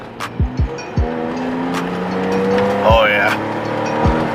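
A Chevy Sport with a newly installed Y-pipe exhaust revs in short bursts and settles into a steady rumble close by, while people talk briefly over it.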